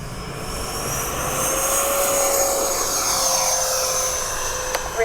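A Freewing 70mm ME 262 RC jet takes off without flaps, its turbine whine rising and sustained as it climbs away under a steady roar of outdoor noise.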